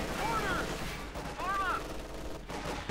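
In the Company of Heroes 2 strategy game, an AA half-track lays down heavy fire, a dense continuous rattle of gunfire heard under a game caster's talk, with faint rising and falling tones over it.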